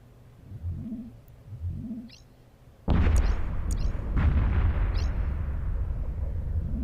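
Dreadnought ship weapons firing in EVE Echoes, a sudden heavy boom partway through followed by a second blast and a long rumbling roar, preceded by quieter low engine hums and faint chirps.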